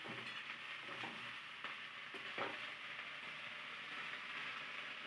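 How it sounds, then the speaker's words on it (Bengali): Eggplant, spring onion, onion and tomato fry in a pan with a steady, dense sizzle, broken by a few soft clicks of stirring, with no voices. "বেগুন, পেঁয়াজ কলি, পেঁয়াজ আর টমেটো ভালো করে ভাজা ভাজা করে নিচ্ছে।"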